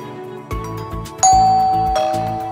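A doorbell gives a bright, close two-tone ding-dong chime that rings out loudly and decays slowly, following a short stretch of light background music.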